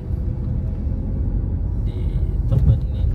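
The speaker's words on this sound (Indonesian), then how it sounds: "Menggunakan mobil wuling" A Wuling car's engine runs with a steady low rumble heard from inside the cabin during a manual driving lesson in Bali, with a few faint clicks and knocks near the end.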